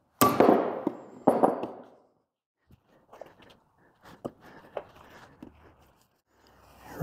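A hammer whacks a stuck chuck arbor in a workshop: two sharp ringing metal clangs at the start, then quieter scattered knocks and handling noises with pauses in between.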